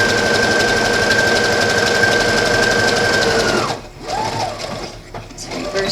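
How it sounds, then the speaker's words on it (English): A sewing machine runs a straight seam on fabric for a wine glass cozy, its steady close whirring hum lasting several seconds before stopping, followed by faint handling sounds. "And just sew it straight down."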